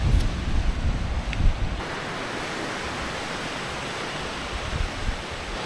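Big ocean waves break and roar on a South Australian beach on the Eyre Peninsula, a loud, close, broadband rush with a heavier crash near the start and constant wind buffeting the microphone.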